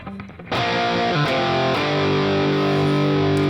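High-gain distorted electric guitar plays a chugging heavy rock shuffle riff, with sustained power chords ringing loud and thick after a brief quieter lead-in.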